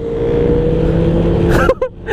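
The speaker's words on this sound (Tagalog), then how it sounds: "mabilis mga ano, mga big bike oh. Tig-dalawa pang tambutso oh." Loud engine roar of big motorbikes with twin exhausts passing close by, a steady throaty drone that cuts off sharply near the end with brief bursts.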